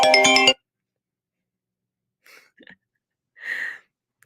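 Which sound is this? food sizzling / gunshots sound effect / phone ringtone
phone ringtone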